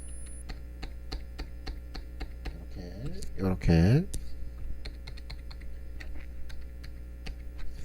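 Computer keyboard arrow keys are tapped in a steady run of single clicks while editing animation frames, with someone talking briefly over the keystrokes.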